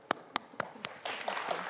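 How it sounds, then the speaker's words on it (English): Audience applause at a startup investment conference in Tokyo for a panel of investors and economic experts: a few separate sharp claps at first, then a denser, steady patter of clapping from the crowd. "Once again, a round of applause to the panelists."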